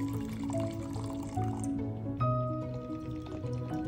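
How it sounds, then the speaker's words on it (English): Toluene poured into a laboratory beaker makes a close, gentle trickle and gurgle of filling liquid, with faint dripping and no speech. "The next step is to add 100 milliliters of toluene to my beaker"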